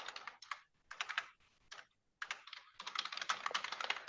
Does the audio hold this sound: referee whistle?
no